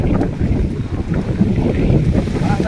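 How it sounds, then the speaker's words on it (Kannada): Strong wind blows steadily outdoors at an open site in Coimbatore, buffeting the microphone with a loud, continuous low rumble and gusty roar that never lets up. "ಒಳ್ಳೆ ಗಾಳಿ, ತಂಪಾಗಿದೆ."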